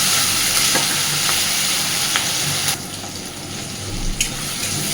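Onions and other ingredients frying lightly in a pan make a dense, steady sizzle close up, with occasional spoon taps and a faint watery hiss near the end.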